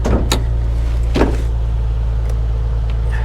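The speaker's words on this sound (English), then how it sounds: "And again, that window doesn't work." A power window motor whirs on a Copart auction Nissan 350Z whose window is faulty and doesn't work, with brief clicks and faint mechanical strain heard close over a loud, steady engine idle.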